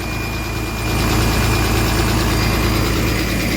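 A truck's engine idles steadily as it warms up after a coolant top-up, a loud, close, even rumble with a slight rise in level partway through and no voices.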